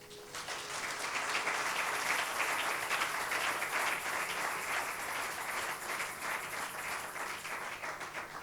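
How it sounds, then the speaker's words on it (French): A church congregation applauds together, a dense sustained wash of many hands clapping heard at moderate distance, swelling slightly and continuing steadily without speech. "On acclame le Seigneur."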